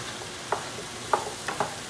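Brussels sprouts seasoned with sea salt are stirred in a pan with bacon over high heat, giving a few sharp scraping knocks of the utensil over a soft, steady sizzle with no talking.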